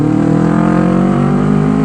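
A Honda CBR250RR motorcycle engine on light throttle during a night ride in Jogja, a steady, loud, close droning hum with a smooth even note and no talk over it.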